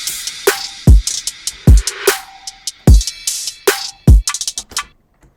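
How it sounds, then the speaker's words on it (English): A melodic trap drum pattern plays alone: deep booming kicks land in a steady rhythm with crisp snare and clap hits and quick rolling hi-hat ticks, loud and upfront with no voice. "I'll start with the drums here."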